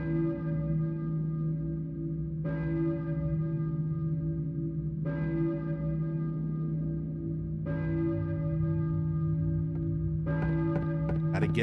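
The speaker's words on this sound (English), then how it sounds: "Who's ringing the bell?" A deep church bell tolls slowly in the Silent Hill video game, strikes roughly every two and a half seconds over a sustained humming resonance, with a faster cluster of strikes near the end.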